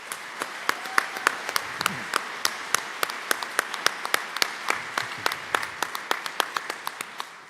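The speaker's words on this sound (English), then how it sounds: "Let's give one more round of applause to Pastor Steve and his incredible team." Audience applause at a mayoral run-off debate, a steady crowd of clapping hands with regular sharp claps sounding throughout, fairly close and continuous with no talk over it.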